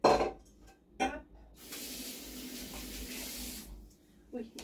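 Tap water runs into a kitchen sink during rinsing. A steady rushing stream lasts about two seconds, with brief clatter and a voice before and after it.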